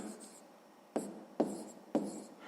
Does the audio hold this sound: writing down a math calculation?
yes